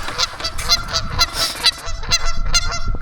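Canada geese honking beside a golf course during an e-bike ride, a run of loud, repeated nasal honks in an irregular rhythm from several birds, fairly close, over a low rumble of wind.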